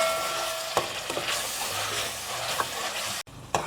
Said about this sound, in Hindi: इसको अच्छे से पालक को इस मसाले के साथ भूनेंगे 3 से 4 मिनट।